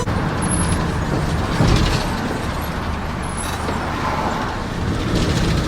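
A city bus driving past Istana Nurul Iman in Brunei, heard from on board as a loud, continuous engine drone and road rumble with a brief surge partway through, no speech.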